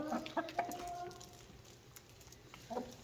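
Homestead chickens clucking nearby in a few short bursts, fairly faint against a quiet room background, with a brief pause before a final cluck, no talking.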